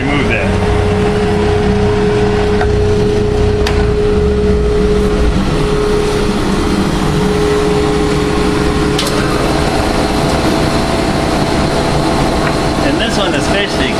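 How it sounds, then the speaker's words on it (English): A 1-inch belt sander works a wooden corner during edge sanding, giving a loud, steady whirring drone with a sustained tone throughout and scraping contact rising at moments, while a voice talks over it. "we're going over to the 1-inch sander and remove that"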